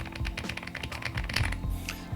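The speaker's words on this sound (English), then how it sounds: "linear switches that sound like this" Linear switches on an Epomaker G84, a VIA-programmable, hot-swappable 80% wireless keyboard with five-layer sound dampening, typed in a quick, steady run of soft, muted keystrokes close up.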